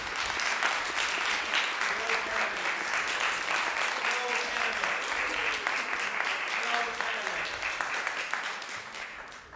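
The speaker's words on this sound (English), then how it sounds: "maybe hold the applause to the end so that we can hear as many of you as possible" Residents at a planning board meeting applaud steadily for several seconds, a dense continuous clapping from a crowd with faint voices underneath, tapering slightly at the end.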